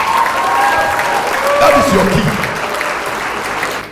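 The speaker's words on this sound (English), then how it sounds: "Give a big clap of hands to Jesus." A church congregation claps hands together in a steady, dense burst of applause that fills the space, with a preacher's voice speaking over it near the start.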